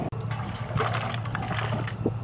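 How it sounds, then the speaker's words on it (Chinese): Hot water runs steadily over mutton pieces being rinsed in a home kitchen for red-braised mutton, a continuous splashing gush with a low hum underneath, no talk. "咱们用这个热水洗一下啊，不要用冷水"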